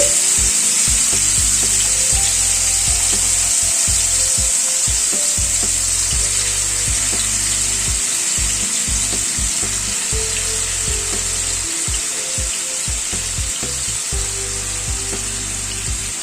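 Rohu fish mixture sizzles in a pan over a low gas flame, a loud, steady close-up frying hiss with occasional soft scraping and clinking as pieces are set down.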